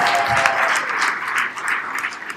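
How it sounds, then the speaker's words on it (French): The audience at a French-language talk on personalities gives sustained applause, a thick even wash of many hands clapping close by for the whole moment. "On l'applaudit encore, Christine."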